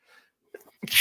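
A single sharp sneeze bursts out near the end, loud and close, preceded by a faint breathy intake and a short vocal catch in a quiet indoor room.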